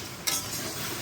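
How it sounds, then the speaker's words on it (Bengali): Taro (kochu) frying in a pan during home cooking, with a soft continuous sizzle and a brief scrape or clink of a utensil near the start. "যে কচু ভাজাটা হচ্ছে"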